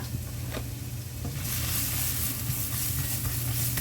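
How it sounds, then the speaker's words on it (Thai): Dried coriander being stir-fried in a pan, a close continuous sizzle with soft scraping strokes that grows slightly louder partway through; no talking. "ผักชีของเราจะเป็นแบบแห้งนะคะ เราก็จะนำลงไปผัดค่ะ"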